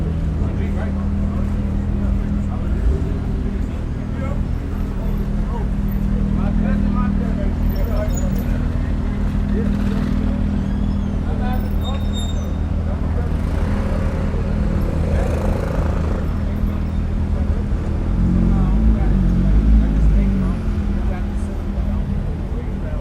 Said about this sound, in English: Let's get ready for these cars to take off again. Just listen to them.